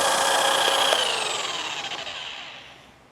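A machine polisher spins a pad loaded with SONAX Perfect Cut & Finish polish on a car panel, a steady high whirring buzz that holds loud and then winds down and fades toward the end.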